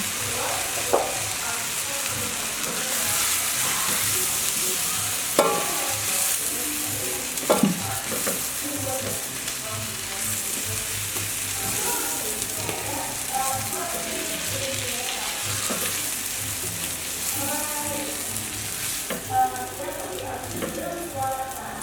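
Pumpkin pieces sizzle steadily in hot oil in a pan, with occasional clinks and scrapes of stirring, close and continuous.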